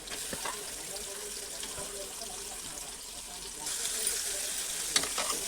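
Half a kilo of chicken sizzles and fries in a pan while being stirred, a steady crackling hiss with occasional scraping clinks, close and moderately loud.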